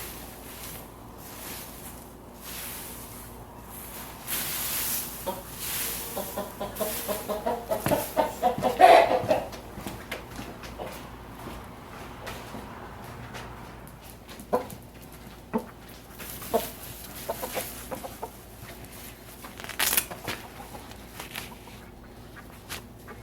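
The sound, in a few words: chicken clucking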